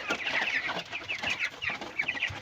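Farm chickens being fattened on feed, a flock clucking and chattering continuously at close range, several birds overlapping in quick repeated calls.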